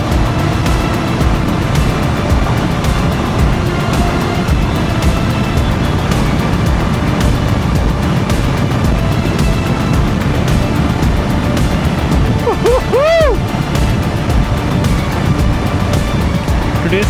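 Steady, loud motorcycle engine running on a mountain road near Mussoorie in the Himalayas, with a constant drone throughout and a brief rising whine near the end.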